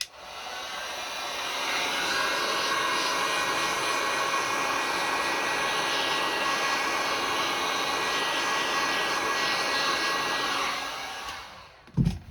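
A heat tool blows over resin holding human ashes in a jar to lift out bubbles. Its steady, close whooshing roar runs for about eleven seconds, then cuts off with a couple of sharp knocks.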